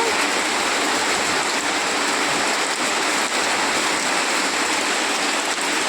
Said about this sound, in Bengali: অবশেষে বৃষ্টি পড়া শুরু হলো দেখো খুব ভালো লাগছে